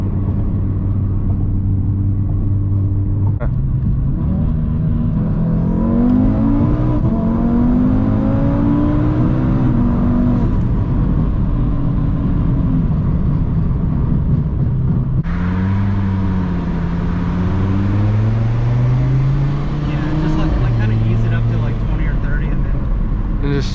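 A 600 whp Audi RS3 pulling hard from inside the car, engine rising through the revs in long climbing sweeps, dropping at each gear change, loud and close over a heavy rumble.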